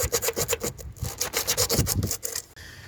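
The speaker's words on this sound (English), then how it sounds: "we need to sand a bit of this paintwork away" Bubbling paintwork on a Ford Focus MK1 being sanded back by hand, with a quick series of close, rhythmic rasping strokes that pause briefly before a final rub.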